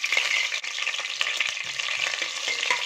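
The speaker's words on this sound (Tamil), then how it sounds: "ஒரு நிமிஷம் அதை ஃப்ரை பண்ணிக்கோங்க." Mint leaves and green chilies frying in a pan, a steady close sizzle with small crackles and occasional stirring scrapes, heard alone with no talk.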